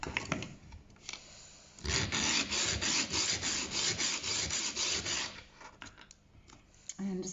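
A hand file rasps rhythmically across the rough edges of a small domed metal piece, quick close back-and-forth scraping strokes in a burst between quieter moments.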